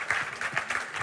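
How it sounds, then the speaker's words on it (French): An audience applauds in brief, pulsing bursts of clapping, moderately close, with no talk over it. "Est-ce qu'on peut l'acclamer pour elle?"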